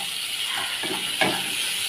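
Fried potatoes and onions sizzle steadily in a pan, with soft scrapes and stirring strokes that rise briefly around the middle.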